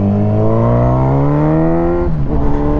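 A motorcycle pulls hard in third gear at about half throttle, its engine note climbing steadily and loud and close, then a brief dip as the throttle eases near the end. No voices are present.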